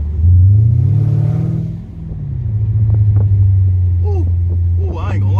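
A Mercedes CL550 sweeps through a hill corner, its engine a steady low drone that swells and eases as it rounds the bend, with a person talking over it throughout.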